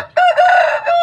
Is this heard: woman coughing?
no